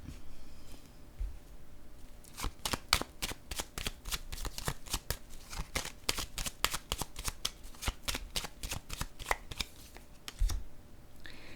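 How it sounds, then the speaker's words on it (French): Tarot cards are shuffled briskly and laid down one after another, a dense run of crisp, close riffling snaps and slaps with short pauses at the start and end, quiet and without talk. "Je vais déposer une carte sur l'avertissement."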